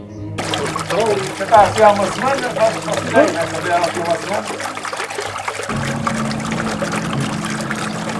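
Flood water trickling and dribbling into a Portuguese village house, a steady liquid pour with a low hum running beneath it, while people talk nearby through the first half.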